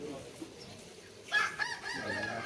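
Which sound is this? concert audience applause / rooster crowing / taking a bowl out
rooster crowing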